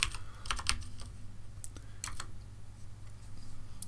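Computer keyboard keystrokes entered as shortcuts while modelling in Blender, a few quick clustered taps and then isolated clicks, close and fairly quiet over a low room hum, with no talking.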